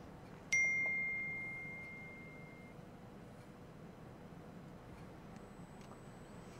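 A single bright phone mail notification chime in the Streamer Life Simulator video game rings clearly and then slowly fades, leaving a quiet low hum behind it.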